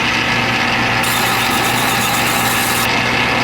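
A lathe spins steadily while grit sandpaper is held against a vinyl record coaster, giving a loud, continuous motor hum under a broad abrasive hiss that brightens partway through, close by and without speech.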